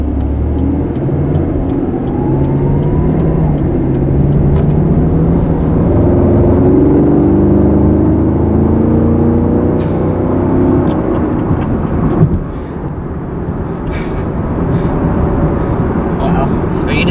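A 2020 Chevy Camaro SS V8 with the performance exhaust and 10-speed automatic rumbles and roars as it drives, the deep engine note rising and swelling loudly throughout with road and wind noise around it.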